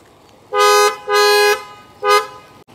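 An aftermarket BMW X5 horn fitted to a Volkswagen Vento, pressed hard: three loud, close honks, the first two long and the last shorter, with brief gaps and no talking.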